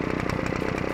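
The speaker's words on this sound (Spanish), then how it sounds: "Sí, es uno de nuestros martillos neumáticos eléctricos." An electric jackhammer in a children's dinosaur cartoon runs steadily and loudly for the full second, a rapid mechanical rattling hammer with an engine-like drone and no voices over it.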